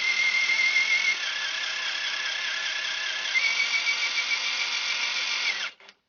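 A small LDR/C P06 RC Unimog truck's electric motor whines steadily at throttle, a loud continuous high-pitched drone that shifts pitch slightly midway, then cuts off abruptly near the end.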